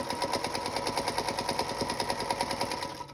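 Sewing machine stitching fabric for a tea wallet, a fast, even mechanical chatter running steadily and close for a few seconds, easing slightly at the end.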